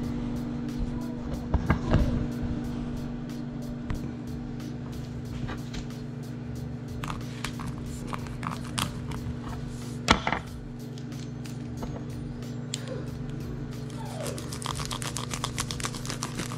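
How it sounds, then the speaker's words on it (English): Scattered sharp chops of a dull Ginsu knife on a cutting board over a steady background hum, with a louder hit near the middle. "I just chop."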